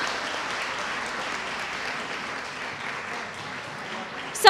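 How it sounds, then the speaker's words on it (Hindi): An audience at a women's conclave in Faridabad claps in a steady, fairly distant wash of applause that lasts throughout, with a sudden louder burst at the very end. "आप सभी से रिक्वेस्ट करूंगी कि आप तालियों के साथ"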